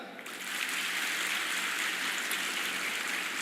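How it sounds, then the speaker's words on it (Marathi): A women's group in an audience claps hard, a thick, sustained wash of applause that swells in after a brief quieter moment and then holds steady. "महिला मंडळ तुम्ही टाळ्या वाजवायच्या जोरात"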